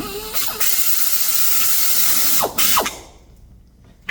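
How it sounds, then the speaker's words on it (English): A power drill whirs loudly and continuously while drilling a hole through a drill guide, its pitch dipping twice near the end before it winds down and stops. "All that's left for me to do is drill the final hole."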